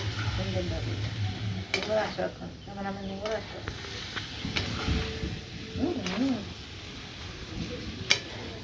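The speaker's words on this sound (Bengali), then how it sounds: "সবজি নাড়াচাড়া দিতেছে" Vegetables frying in a pan give a steady sizzling hiss with occasional stirring scrapes, while people talk over it in the background.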